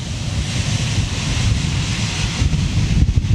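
Hot jet blast from a Cathay Pacific Airbus A350 at Manchester Airport roars as loud, rumbling wind noise buffeting the microphone, low and turbulent with gusty surges toward the end.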